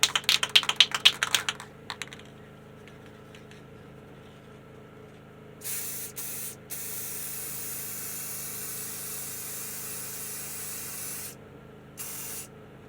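A guitar neck gets a clear coat sprayed on after sanding and masking: a few sharp rattles at the start, then bursts of steady aerosol hiss come and go, fairly close.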